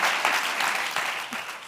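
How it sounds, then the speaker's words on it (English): Audience applause closing a talk by Otobong Nkanga at the E.A.T. 2026 event: dense, steady clapping from a full room, fairly close and even throughout. "Big round of applause for Otobong."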